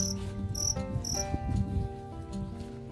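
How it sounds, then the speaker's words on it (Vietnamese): Fighting crickets in a jackfruit garden chirp in a dense, steady trill, with sharper, high rhythmic pulses standing out near the start over a continuous insect drone. "rồi mấy dế này nó rít"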